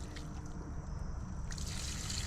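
Steady trickle of water poured onto an avocado plant in a bigger pot, continuous and close, growing brighter toward the end.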